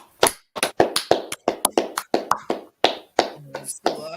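A class clapping at the end of a session, sharp separate hand claps in an uneven rhythm, loud and close, with a few faint voices mixed in.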